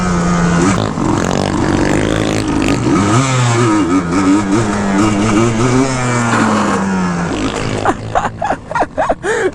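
ATV engine revving hard in repeated surges with rising and falling pitch, loud and close during wheelie attempts, ending in choppy bursts of throttle.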